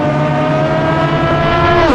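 Race cars on the formation lap at Sebring in an 80-minute international round, a loud sustained engine drone with steady harmonic tones that rise slightly toward the end as a car nears.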